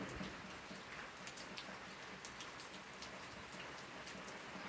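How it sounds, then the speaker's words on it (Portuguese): Steady rain falls across a dry backcountry homestead in the Paraíba sertão of northeastern Brazil, a continuous broadband hiss with scattered drop patters, even and unbroken, with no voices. "Mas continua a chover, viu?"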